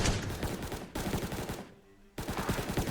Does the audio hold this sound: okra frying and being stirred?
no